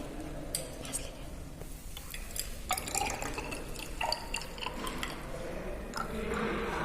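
Water poured into a glass laboratory vessel to dilute a chloride limit-test solution up to the 50 ml mark, with splashing, dripping and glassy clinks while a person speaks quietly.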